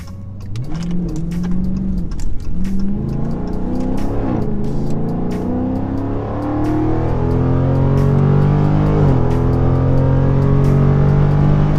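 A Dodge 392 Scat Pack fitted with a Roar pedal accelerates hard, its V8 engine note climbing through several gear changes in a loud, continuous interior roar that swells toward the end.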